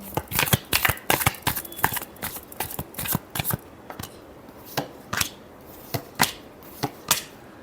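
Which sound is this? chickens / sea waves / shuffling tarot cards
shuffling tarot cards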